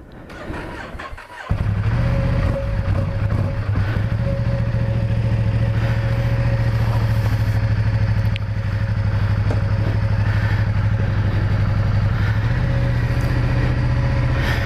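A Ducati XDiavel motorcycle on a steady ride out, fitted with a quick shifter and brand-new Michelin tyres. After a short quieter start, a loud, continuous, close engine drone holds steady, with no talking.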